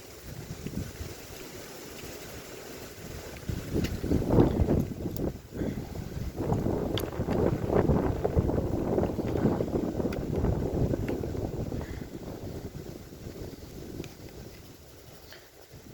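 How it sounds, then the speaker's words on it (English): Gusty wind buffets the microphone outdoors near Dunkeld Cathedral, a broad rumbling roar that swells and eases over the whole stretch, loud and continuous with no talk. "Maybe I should pick a less windy day when I'm doing this."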